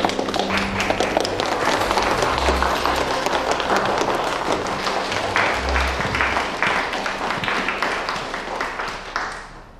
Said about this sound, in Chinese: 用热烈的掌声，